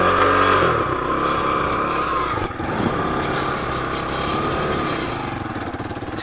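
A 1986 Honda ATC200X three-wheeler's small single-cylinder engine revs hard and close, a loud continuous buzzing drone that briefly dips and then holds steady throughout.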